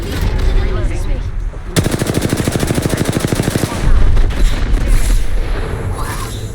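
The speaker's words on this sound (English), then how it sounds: "Getting shot." Rapid automatic gunfire from the video game Apex Legends on the Storm Point map rattles in one loud, evenly spaced burst of about two seconds, followed by scattered heavier impacts and game noise.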